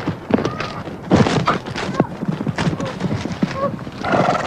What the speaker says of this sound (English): All of a sudden, Jenna's horse spooked